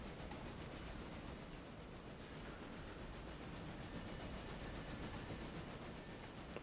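A passenger train runs through forested country in the Railroader video game, a steady, distant rumble with faint rail clatter and no voices.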